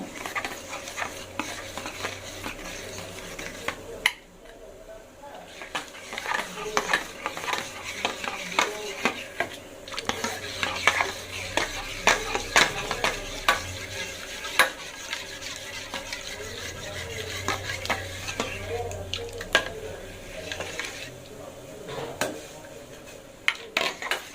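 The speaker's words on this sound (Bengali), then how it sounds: "গুঁড়ো দুধে এখন গরম জল দিয়ে এটাকে ভালো করে গুলে নিব" Powdered milk is stirred into hot water in a vessel, with a spoon scraping and clinking in quick, uneven bursts against a soft background hiss.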